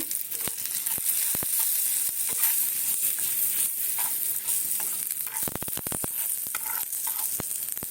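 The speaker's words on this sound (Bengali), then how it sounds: "দেখো সুজিটা এইভাবেই ভাজবো" Semolina frying in ghee with cashews and raisins, a dense close sizzle broken by repeated sharp scrapes and taps of a spoon stirring against the pan.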